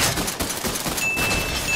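Gunfire in a video game, rapid overlapping shots forming a dense, continuous burst that stays loud throughout with no pauses.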